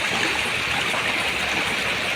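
Flowing stream water at night, a steady broadband rush and gurgle, continuous and fairly close, with no speech over it.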